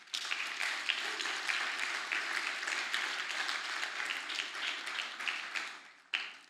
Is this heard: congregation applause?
yes